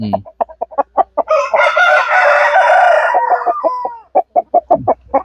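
A fighting rooster crows loudly and close by, one long drawn-out call, with sharp clucks and pecking-like clicks before and after.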